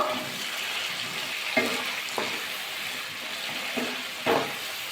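Cauliflower florets tossed into a hot pan of oil for matar fulkopi sizzle with a steady hiss, broken by a few soft clanks and scrapes of stirring, close and moderately loud, with no voice.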